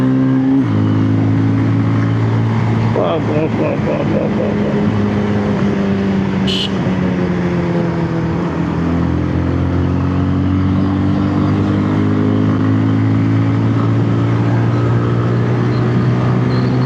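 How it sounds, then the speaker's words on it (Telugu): A 2026 Bajaj Pulsar 220F engine drones loud and close while accelerating, a steady strong hum whose pitch climbs and shifts through gear changes, continuous throughout. "చూడండి యాక్సలరేషన్ ఎంత బాగుందో."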